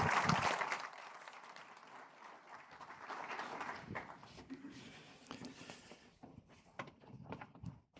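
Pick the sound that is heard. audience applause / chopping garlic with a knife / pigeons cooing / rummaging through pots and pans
audience applause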